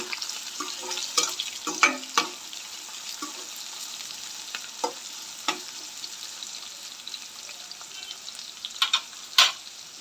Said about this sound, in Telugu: కట్ చేసిన ఆనియన్ వేసుకుందాం. ఒకసారి నెమ్మదిగా కలుపుకోవాలి.